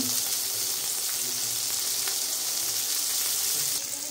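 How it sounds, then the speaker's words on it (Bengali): Eggplant slices fry in hot oil in a pan, giving a loud, steady, close sizzle that runs unbroken the whole time. "এখন বেগুনগুলো দিয়ে নিচ্ছি, এগুলো ভাজি করে নিব"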